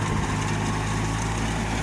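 A farm tractor with a rotary tiller attached idles in a sugarcane field. It gives a steady, fairly quiet low engine rumble under broad background noise, with no voices.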